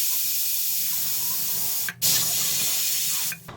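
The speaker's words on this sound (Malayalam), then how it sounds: "ഈ ഒരു പ്രഷർ കുക്കറിൻ്റെ ലിഡ് വെച്ച് ഇതിനെ ക്ലോസ് ചെയ്തിട്ട് നമുക്കൊരു 3 വിസിൽ വരുന്നവരെ വെയിറ്റ് ചെയ്യാം." A pressure cooker on the stove while chicken curry cooks releases a loud, steady hiss of escaping steam that runs continuously, briefly cut at about two seconds and again near the end, with no talking.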